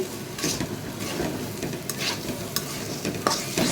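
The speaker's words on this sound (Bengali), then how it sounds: "তো আমি চালটা ভেজে নিতেছি" Rice sizzles in a hot wok with spiced masala for pulao while a spatula stirs it steadily, close scraping strokes over a continuous frying hiss.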